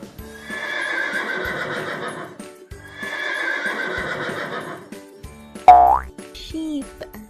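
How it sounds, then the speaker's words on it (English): Two long, loud horse neighs, each about two seconds, come one after the other and are followed by a brief springy boing effect and a short squeaky cartoon tone. "Horse says neigh"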